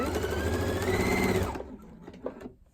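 A sewing machine stitches quilt binding for about a second and a half at a steady, close, continuous whir, then stops with the needle down, leaving a few faint clicks.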